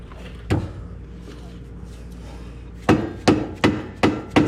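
Metal screwdriver hammered or pried under the rear shock of a 2014 Jeep Wrangler JK to work it loose, a single knock early then five sharp, evenly spaced close strikes near the end.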